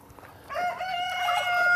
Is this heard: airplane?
no